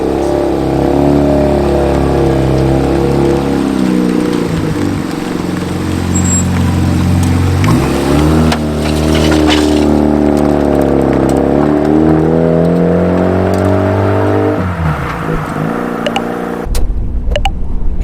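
A 1996 Mazda RX-7 FD3S with a widebody kit pulls away. Its engine revs climb and fall through several loud, close sweeps, steady and unbroken, with no talking over it.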